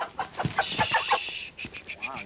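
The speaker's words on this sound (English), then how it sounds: "has brought a few of her chooks along" Several backyard chooks cluck in a rapid, uneven series of short calls close by, with a brief rising squawk near the end.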